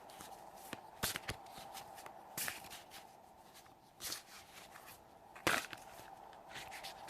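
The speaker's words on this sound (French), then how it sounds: "Hop, allez, on va couper le jeu." A deck of tarot cards is shuffled and cut with soft papery riffles and taps, several short bursts spread over a quiet room tone, with no talking.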